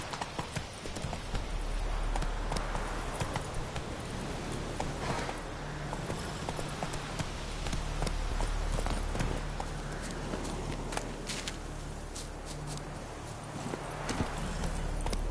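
Hoofbeats of a horse in The Witcher 3 video game, a steady clip-clop running continuously and fairly close over an outdoor ambient bed, with no talking.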